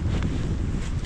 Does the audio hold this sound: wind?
yes